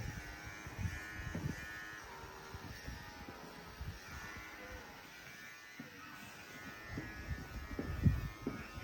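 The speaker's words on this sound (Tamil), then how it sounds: "எல்லா ப்ராப்பர்ட்டிஸ் ரெடியாக இருந்து வச்சு பண்ணிகிட்டு இருக்கேன் இதுவா கட்டிங் ப்ராசஸ் போயிட்டுருக்கு லியாவுக்கு" An electric hair clipper trims a dog's fur at home, giving off a steady low buzz that rises and falls as it moves, with occasional handling noises.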